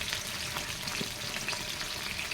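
Sardines fry with bottle gourd in a pan, giving a steady, dense sizzle that holds even throughout, with faint stirring clinks underneath.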